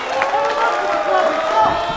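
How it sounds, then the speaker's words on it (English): A wrestling crowd at a PWA match roars and cheers steadily as the bell rings and the bout gets underway, a dense, sustained wall of voices and whoops with no break. "The crowd is into it already."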